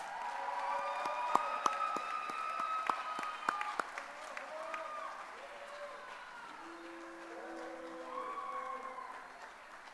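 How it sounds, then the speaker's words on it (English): Scattered applause from an audience with a few sharp claps and some cheering, fading into a quieter murmur with whistle-like tones later. "Please join me in welcoming Maria Huseras Palompas to the stage."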